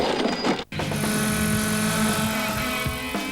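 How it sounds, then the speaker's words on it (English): A radio-controlled model helicopter flies with a steady, loud rotor and motor whine, its tone holding and shifting slightly, broken once by a brief dropout. "Helicopters are by far the hardest RC vehicle that I've tried to perfect."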